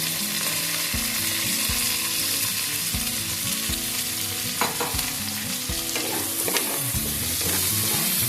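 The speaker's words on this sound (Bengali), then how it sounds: "আমি এটাকে একটু নাড়াচাড়া করে নেব" Onions and sliced capsicum sizzle steadily in a pan while a spoon stirs them, repeated scraping strokes and soft clatters over a continuous close fry, no voices.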